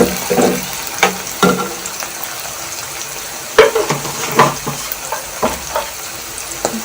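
Onions and cumin fry and sizzle in a pan while being stirred, with a steady crackle broken by several scraping stir strokes and a few clinks, close and fairly loud, with no talking.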